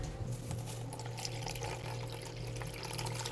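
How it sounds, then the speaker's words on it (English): Distilled water poured into a container for making liquid soap, a steady splashing liquid stream close by under a low hum, continuous for a few seconds. "I'm going to use 200 grams of water."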